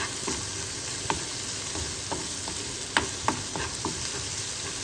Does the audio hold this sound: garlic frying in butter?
yes